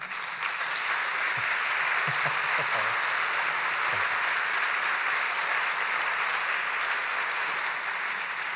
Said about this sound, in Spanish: un aplauso a esta generosidad